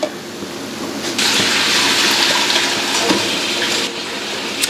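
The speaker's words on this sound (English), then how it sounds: "So let me add some water here." Water poured from a container into a slow cooker holding frozen beef stroganoff ingredients, a steady broadband rush that swells after the first second and runs for several seconds before easing slightly near the end, close and fairly loud.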